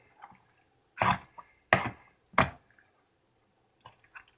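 A knife cuts through raw chicken in three wet, squishy chops spaced about a second apart, then a couple of faint taps follow in a quiet room.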